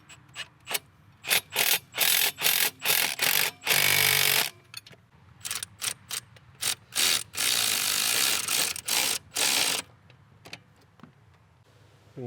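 A hand ratchet clicks in repeated fast bursts while tightening the bolts of a transmission pitch stopper mount on a Subaru with a TR580 CVT, close and loud with short pauses between strokes.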